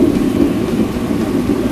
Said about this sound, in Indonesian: Hujannya cukup lebat.